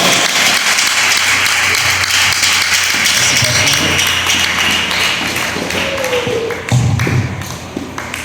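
A church congregation claps steadily and densely throughout, the applause sustained with a few louder bursts toward the end, in a reverberant hall.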